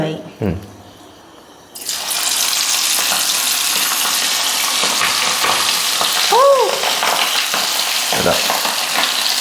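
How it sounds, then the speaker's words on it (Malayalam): Mussels hit hot oil for a Kozhikodan-style mussel roast, setting off a loud, steady sizzle that fills the pan after a brief quiet start, with a few faint knocks and scrapes of utensils. "അപ്പൊ നമ്മൾ വറക്കാൻ പോവാണ് എണ്ണ ചൂടായിട്ടുണ്ട്"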